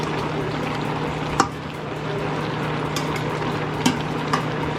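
A pot of cooked squash (kalabasa) is stirred over a steady bubbling, sizzling simmer, with a couple of faint clinks of a utensil against the pot and a low hum underneath.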